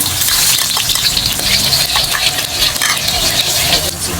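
Garlic and onion sizzling in hot oil in a wok, a steady, loud broadband fry with faint stirring scrapes throughout and no talk.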